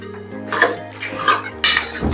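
Mutton chops stirred in a pan with pepper powder, salt, dill leaves, kasuri methi and turmeric, giving a few clattering metal scrapes and clinks in quick succession.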